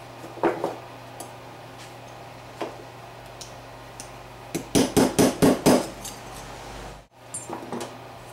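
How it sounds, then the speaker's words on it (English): On a 1975 Suzuki TC 185 carburetor, a tab is bent up with a small screwdriver and pliers: a few sparse metallic clicks, then a quick run of about six sharp taps, close and quiet. "just going to take a little screwdriver, a pair of pliers, and I'll bend the tab up"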